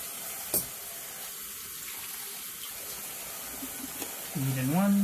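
Tap water runs steadily into a sink while fountain pens are rinsed, with a soft continuous flow throughout and a brief clink early on, ending with a louder rising tone.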